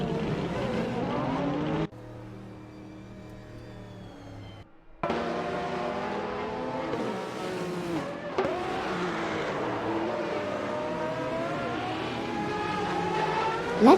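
Engines of race cars in a Group C racing video game roar and shift continuously, with a brief quieter dip before the loud, steady engine drone resumes and holds to the end.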